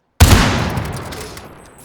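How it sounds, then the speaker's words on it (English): A single loud rifle volley cracks out at a farewell salute, a sharp sudden blast followed by a long echoing decay fading over more than a second. "Billy, that was our 3-volley salute to"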